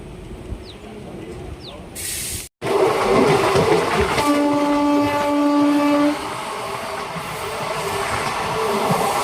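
The CIRCAR Express, train 17643 from Chengalpattu to Kakinada, starts off and picks up speed, heard from on board as a loud steady rumble with a sustained horn-like tone partway through.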